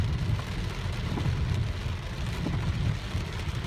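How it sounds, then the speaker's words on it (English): Heavy rain pours down in a dense, constant roar with a deep low rumble, steady and close for the whole stretch, with no voices. "It's really raining really bad."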